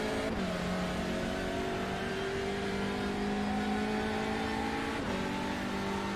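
Onboard race car engine at Okayama circuit, driven by John Bailiff in a sim racing league: loud, steady high-revving drone climbing through gears with two quick shift dips, no talk.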